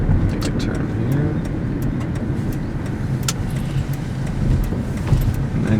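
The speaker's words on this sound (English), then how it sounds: "And here's a little bit of acceleration." Toyota Progrès sedan fitted with a 2JZ engine accelerating on the road, heard from inside the cabin as a steady, loud engine drone and road rumble that builds slightly, with scattered faint clicks.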